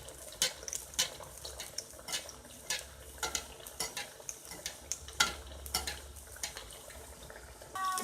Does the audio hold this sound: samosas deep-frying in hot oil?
yes